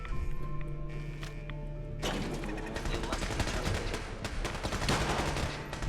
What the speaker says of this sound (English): that sounds like a legendary with a magnum